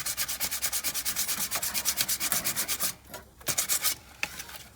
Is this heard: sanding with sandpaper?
yes